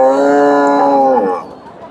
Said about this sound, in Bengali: এখানে একটা গাভী দেখেন মাঝারি সাইজের গাভী ফ্রিজিয়ান জাতের গাভী